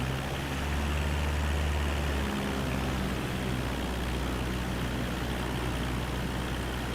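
A propeller aircraft engine in Microsoft Flight Simulator 2024 on PS5 drones loud and steady through the whole stretch, a dense rumbling roar whose low tone shifts partway through as the RPMs are raised.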